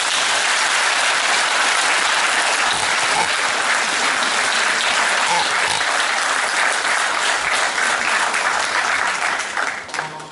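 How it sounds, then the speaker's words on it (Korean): Book concert audience in Korea applauding the speaker's mother during an ultramarathon cyclist's lecture, with loud, sustained clapping from many hands that continues evenly for several seconds before tapering at the very end. "저희 어머니에게도 큰 박수 부탁드립니다"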